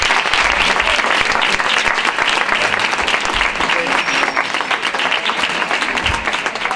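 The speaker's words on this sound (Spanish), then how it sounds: "yo os pido para los tres un aplauso muy grande" Large indoor conference audience giving sustained, dense, loud applause throughout, with a faint murmur of voices underneath.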